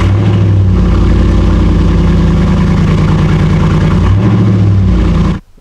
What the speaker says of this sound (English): you can see what your car sounds like without a muffler on it. It's basically straight piped with catalytic converters on it